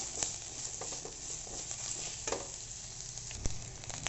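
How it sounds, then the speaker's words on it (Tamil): Onions and green chillies sautéing in a pan, a soft continuous sizzle broken by scattered scrapes and clinks of stirring, with one sharper knock near the end; quiet and close, no voices. "ஸோ இப்போ பச்சை மிளகாவும் ஆட் பண்ணிவிட்டு நல்லா கோல்டன் ப்ரௌன் கலர் வர வரைக்கும் வதக்கி எடுக்கணும்."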